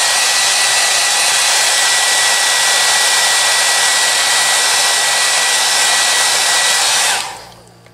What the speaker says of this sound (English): Then I take my hairdryer.